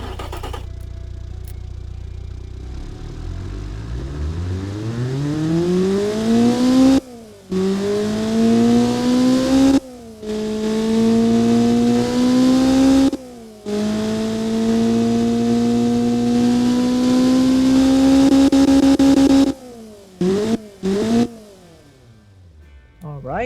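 A Honda B16 engine cranks, catches and revs repeatedly, loud and close, the pitch climbing and holding through several long pulls with brief breaks between them and quick blips near the end.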